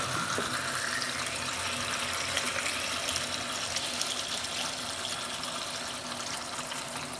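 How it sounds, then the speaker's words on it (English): A faucet runs water down into a sink during home color film developing, making a constant, close, full rushing splash that stays even from start to finish. "I'm going to run the faucet right down into there"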